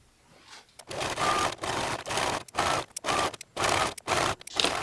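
A sewing machine stitches the side seams of a dress made from a 1940s pattern, running in about seven steady bursts of close, loud whirring, each followed by a brief pause, with no voices.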